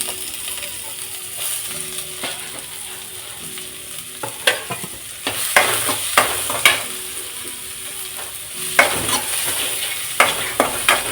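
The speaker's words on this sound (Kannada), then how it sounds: "ಒಂದು ದಪ್ಪ ಗಾತ್ರದ್ದು ಈರುಳ್ಳಿ ಕಟ್ ಮಾಡಿ ಇಟ್ಕೊಂಡಿದ್ದೆ, ಅದನ್ನು ಸೇರಿಸ್ತಾ ಇದ್ದೀನಿ." Thick-cut onion frying in a pan for a drumstick-leaf sambar, with a steady sizzle and sharp spoon-on-pan scrapes and clacks that grow more frequent in the second half, close and fairly loud.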